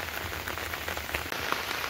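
Monsoon rain falls over a village in rural Bengal, a steady close hiss of drops pattering on surfaces with no voices.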